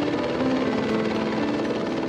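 A Mi-1 helicopter flies with a steady, loud rotor and engine drone and a constant hum, heard continuously with no voices.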